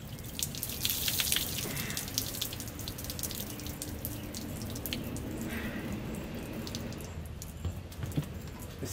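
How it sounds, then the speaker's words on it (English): Steady running water splashing from a tap while rinsing parts of a Ritchey-Chretien telescope, a continuous close rush with small drips and clinks, no talking. "I'll probably rinse some more of it off"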